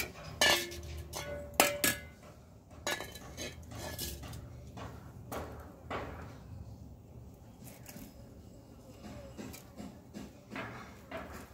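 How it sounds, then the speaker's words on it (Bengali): A coconut is cut open in a home kitchen with hard, irregular knocks and chops, plus metallic clinks of a blade and utensils against a quiet room background. "আর নারকেলটাও এমনি এনে রেখে দিয়েছে, সেটাকেও এখন কাটতে হবে।"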